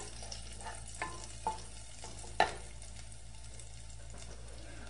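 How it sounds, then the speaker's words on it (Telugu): Egg fried rice with fried egg pieces is stirred in a pan, giving a few scattered scrapes and light taps over a low, steady background sizzle. "బాగా కలపండి."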